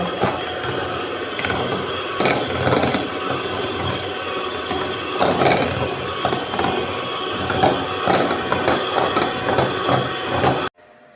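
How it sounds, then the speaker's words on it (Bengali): An electric beater whips a cup of cream for a cake, giving a steady, loud, continuous mechanical whir with a faint rattle that runs almost the whole time and then stops abruptly. "এখান থেকে আমি এক কাপ পরিমাণ ক্রিম নিয়ে নেব ব্রিটারের সাহায্যে এটা আমি বিট করে নেব"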